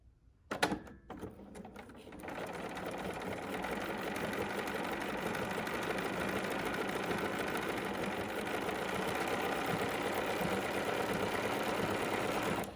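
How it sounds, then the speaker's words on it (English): A BERNINA sewing machine stitches a blind hem with a steady, fast mechanical whir and rapid needle chatter, running continuously after a couple of brief clicks at the start. "and now we're just simply going to sew"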